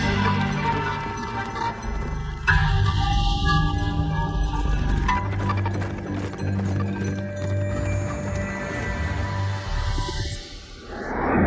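Horse hooves clip-clop steadily across a dense, full mix with music or ambience, with a brief crash near the start and a faint whinny, the trotting rhythm carrying throughout without speech.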